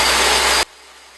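Saw cutting a bevel on a wooden window sash, with the blade set at about 9 degrees: a loud, steady close-up cutting roar that stops abruptly after half a second, leaving low background hiss.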